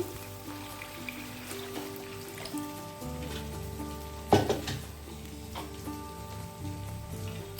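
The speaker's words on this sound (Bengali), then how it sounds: "এবার জল দিয়ে দিচ্ছি" Water poured onto a sizzling spice paste for lote fish curry sets off a steady crackling hiss that jumps to a brief louder splash midway, then settles back into a bubbling sizzle.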